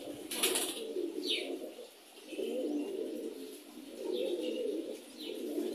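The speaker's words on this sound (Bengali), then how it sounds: "কবুতরের ছোট বাচ্চা যদি বাবা মা না খাওয়ায়" Young pigeon chicks, about five or six days old, give soft repeated cooing calls in short clusters with brief chirps, close by and fairly quiet.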